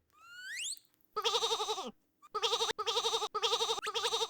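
A video game sheep bleats repeatedly, with cartoonish wavering, vibrato-like calls that come in rapid succession after a rising whistle-like tone, fairly clear against little else.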